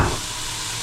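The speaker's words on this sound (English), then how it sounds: "I'm gonna add a little bit of white wine in there." White wine hitting hot risotto rice in the pan, a brief burst of bright hissing sizzle that quickly settles into a steady, close frying hiss.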